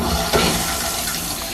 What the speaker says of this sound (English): I think this is almost done so I can rinse it out